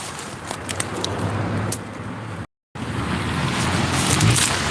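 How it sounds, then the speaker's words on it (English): Cars pass on a nearby road beyond a woodland spot where an oak tree is being felled, a steady broadband rush that swells and fades, cut by a brief silent gap. "You're gonna hear car sounds."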